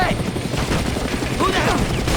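An attack helicopter in the Far Cry video game fires on a boat stuck in shallow water, a loud, continuous roar of rotor noise and rapid gunfire with a few brief whines over it.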